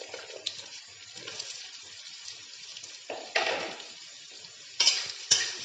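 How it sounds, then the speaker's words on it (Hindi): Raw taro (arbi) pieces dropped into hot oil in a kadai, a soft bubbling fry with louder sizzling bursts and light clinks of a utensil stirring. "ये हमारा तेल गर्म हो चुका है। अब इसमें अरबी डालेंगे हम।"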